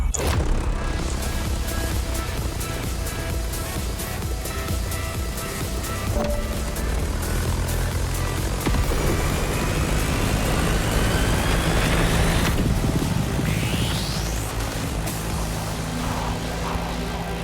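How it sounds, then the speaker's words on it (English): A Beechcraft Staggerwing biplane flies in the racing game The Crew Motorfest, its propeller engine droning loud and continuous. Swells and sweeping pitch shifts suggest the plane maneuvering, with no voices over it. "That Beechcraft Stagger Wing is truly a beautiful piece, isn't it?"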